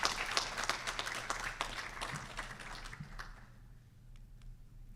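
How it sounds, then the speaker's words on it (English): An audience at an internal medicine residency graduation ceremony applauds, dense clapping that gradually thins out and fades to a few scattered claps. "Okay, we'll still give her a round of applause."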